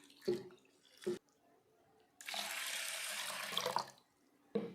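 Soaked urad dal being washed with water, a few short splashy sloshes followed by a longer run of tap water pouring into a bowl, close and moderately loud with quiet gaps between.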